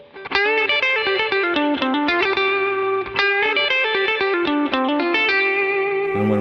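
Clean electric guitar lick from a song, fingerpicked, with string bends: a fast run of bright plucked notes with a chorus-like shimmer, played loud and steady with no talking.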